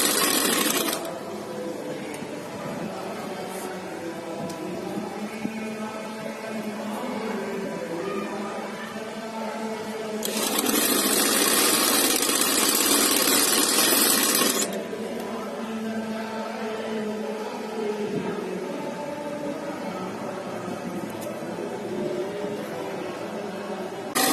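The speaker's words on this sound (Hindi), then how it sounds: "ऐसे किनारी किनारी भी सिलाई लगाएंगे" Sewing machine stitching along the edges of a salwar, running steadily and continuously for the whole stretch, growing louder and brighter for a few seconds midway before settling back to its even mechanical whirr.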